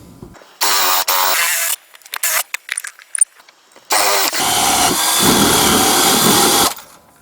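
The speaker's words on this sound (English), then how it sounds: "Now I'll drill it all through so I can get the nut on." A power drill bores through a wooden handle fitted to a lathe shaft in a workshop, running in loud bursts with short stops between them, then one long steady run before cutting off.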